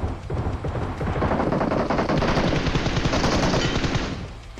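Video game shootout with dense, loud rapid gunfire: bursts of automatic fire and overlapping shots rattling continuously for several seconds before easing off.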